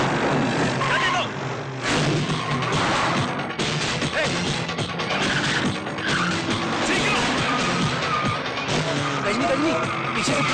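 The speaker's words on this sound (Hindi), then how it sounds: "सर गजनी गाड़ी में भाग रहा है, वो बद्री भाई को मार के जा रहा है।" A car speeds away in a film chase scene, tires skidding and screeching with crashing impacts over a busy, loud soundtrack, while voices shout over the commotion.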